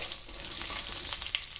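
Cashews and almonds fry lightly in a pan for upma, giving a steady soft sizzle with faint crackles and occasional stirring scrapes.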